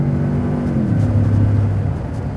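A 2015 Ford F-150 pickup with the 3.5-liter EcoBoost engine pulls away under acceleration, its engine tone rising steadily as a loud, close, continuous drone.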